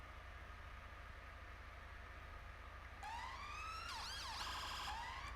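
A police demonstrator vehicle in a London roleplay game starts its siren partway through, a loud wailing and yelping sweep over a steady engine hum.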